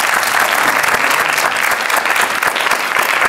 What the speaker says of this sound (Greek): Αν κριντζάρατε λοιπόν με το Χάρη, χειροκρότημα παρακαλώ.